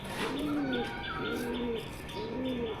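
Two newly bought pet pigeons coo in three soft, repeated rounded phrases, each swelling and fading over a steady background hiss.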